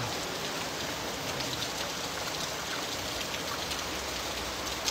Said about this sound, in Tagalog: Malakas na ulan eh.